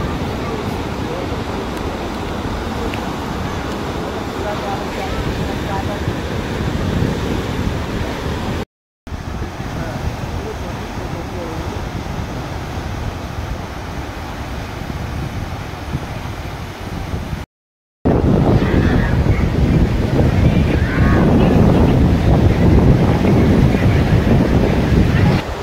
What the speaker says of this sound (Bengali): এখন সমুদ্রের পাড়ে বসে আছি